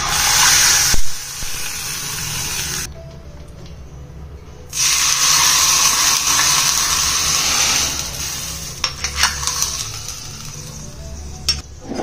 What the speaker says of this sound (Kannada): ಒಗ್ಗರಣೆನ ಇವಾಗ ತಂಬುಳಿಗೆ ಹಾಕೋಣ।